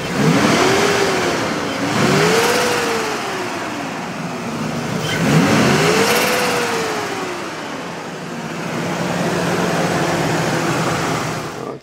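A car engine that runs fine cold but develops a miss when warm revs up and down in several long swells, loud and close, with a steady fan whir underneath.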